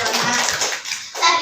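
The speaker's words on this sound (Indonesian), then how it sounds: "dapat tepuk tangan dong buat Dava yang sudah berani memimpin di sini" Classroom of children clapping for a student, a dense, close patter of many small hands lasting about a second and a half with a brief dip before picking up again.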